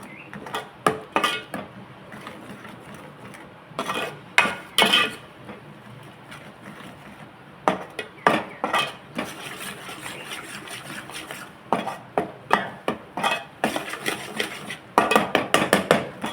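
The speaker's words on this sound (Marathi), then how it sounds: "ह्या चांगला तेलात पहिला परतून घेऊया" A ground spice paste fries in oil in a pan while a spoon scrapes and knocks against the metal in repeated sharp clatters, with quieter pauses between bursts.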